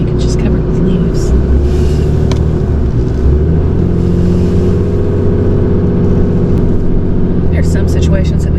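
A car engine drones steadily while slowly pulling into a leaf-covered parking spot by a cabin, a continuous low rumble throughout, with people talking quietly over it.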